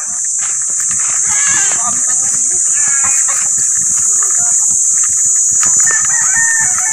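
Labuyo (Philippine red junglefowl) chickens in Agoncillo, Batangas cluck and crow close by with short repeated calls, over a constant high-pitched hiss and scattered clicks.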